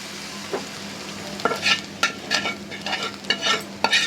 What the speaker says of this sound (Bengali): কড়াইয়ের মধ্যে শাক ঢেলেছি ওটাকে ঢেলে দিব এটাকেই মূলত বাগার বলা হয়